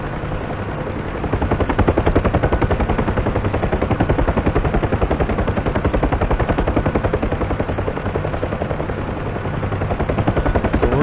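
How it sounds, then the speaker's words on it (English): A Huey helicopter in the DCS flight simulator chops loudly and continuously, its rapid rotor beat filling the scene up close with no talk over it. "that helicopter right there touches down"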